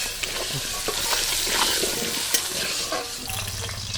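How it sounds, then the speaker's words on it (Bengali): Potato pieces fry with turmeric and salt in hot oil, a dense continuous sizzle broken by clattering stirs of a spatula against the pan. "নুন হলুদ দিয়ে আলুগুলোকে ভালো করে লাল লাল করে ভেজে নেব"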